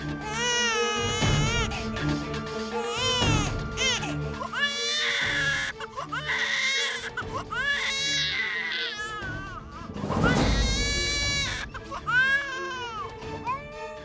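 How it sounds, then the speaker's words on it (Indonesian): A baby cries loudly and close by, with repeated rising, wavering wails and brief catches of breath between them, and some voices talk alongside in a home setting. "ada suara bayi lagi"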